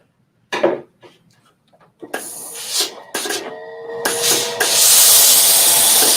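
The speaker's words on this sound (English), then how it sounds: "you're going to need a good steam iron" Steam iron pressing a fabric seam on a trench coat during sewing, with brief thumps and handling, then rising bursts of steam hiss building into a loud, steady spray.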